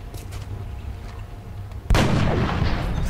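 A single sharp gunshot from the XCOM Enemy Unknown video game cracks out loudly about two seconds in, after quiet game ambience, and trails off in a rumbling decay.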